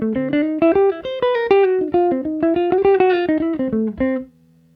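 Godin 5th Avenue electric guitar on the neck humbucker with the tone fully open, playing a close, clear run of single picked notes in a quick rhythm before one low note rings out and fades.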